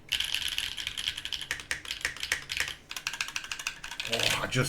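Fast typing on a Macross65 mechanical keyboard, unlubed switches on a thick PP plate, gives loud, scratchy, clacky keystrokes in dense bursts. A voice talks quietly underneath.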